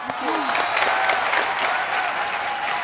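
Loud, dense applause from a TV show studio audience, a steady wash of clapping hands lasting a few seconds, close and full.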